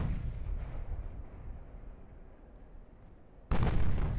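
Heavy naval gunfire in the Ultimate Admiral: Dreadnoughts warship game, with a long rumbling boom trailing off before a second loud, sharp cannon blast erupts near the end.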